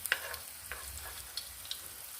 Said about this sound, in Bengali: এইভাবে সব কটাকে আস্তে আস্তে ভাজবো।